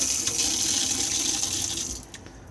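Water runs from the tap into a caravan sink in an Elddis Majestic 275, a steady close hiss and splash that tapers off as the flow is shut off near the end.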